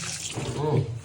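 Water rushes steadily into the inlet of a front-load washing machine once a debris blockage is cleared, a close continuous flow with a low hum beneath it lasting about a second.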